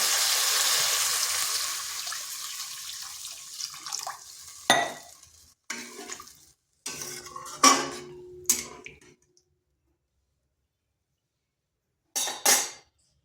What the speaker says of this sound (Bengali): আলুটা কষানো হয়ে গেছে, এখানে দিয়ে দিচ্ছি জল।